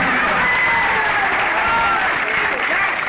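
A village crowd in Pipraun claps steadily at a local MLA's gathering: dense, continuous applause that stays loud throughout with a faint murmur of voices beneath.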